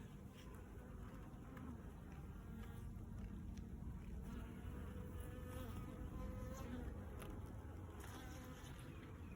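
Bees buzz in a low, continuous drone around an open hive during an inspection, a faint steady hum with a few brief rises from individual insects passing near, and no talk.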